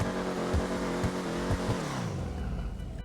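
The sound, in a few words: Classique Broadway car engine in video game GTA Online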